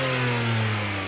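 A Stage 2 tuned Skoda Slavia engine holds a loud, sustained rev, a steady close-up drone with a rising, strained tone that stays level through the whole short moment.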